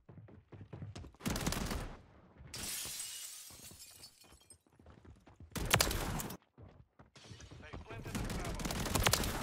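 Bursts of full-auto AR shotgun fire rip out in Call of Duty MW3, loud rapid blasts in several volleys mixed with breaking-glass crashes and game effects, with voices speaking between the shots.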